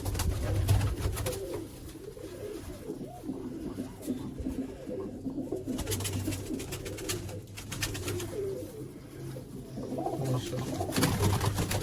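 Red-eyed teddy pigeons coo in soft, repeated low throaty calls, several birds overlapping steadily at close range for the whole stretch.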